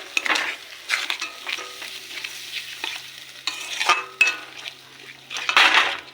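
Spices with garam masala powder stir-fried in a pan for a prawn curry: repeated scraping spoon strokes and clinks against the pan over a soft sizzle, close and rhythmic, with no talking.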